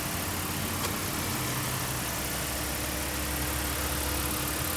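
A 2012 Ford Falcon XR6 engine runs steadily, a continuous broad hum and rumble heard from close by in the engine bay, with no talk over it.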